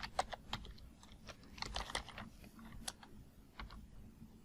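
Keys clatter on a computer keyboard in quick, uneven bursts while someone enters a search for a picture of Trent University, each tap close and crisp over a quiet room hum.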